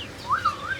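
A single short, clear whistled parrot call at a mini zoo, rising and wavering briefly over faint background noise.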